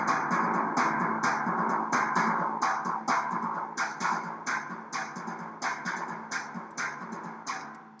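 A computer-generated timpani part exported from Sibelius notation software plays as a series of booming drum strokes, repeated hits at a steady pulse with ringing decay, gradually softening toward the end.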